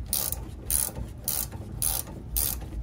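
A ratchet wrench turning a bolt on a BMW E39 lower control arm: five quick, evenly spaced bursts of close, rasping clicks, one roughly every half second, over faint background noise.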